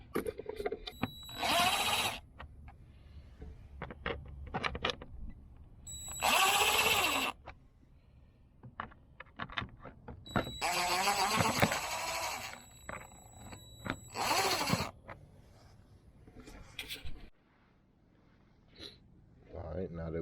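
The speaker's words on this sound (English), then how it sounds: "we're gonna unscrew the box and check what's in there" A power driver whirs in several short bursts while backing out the air filter box screws on a 2016 Chevy Malibu, each spin loud and close, with someone talking between and over the bursts.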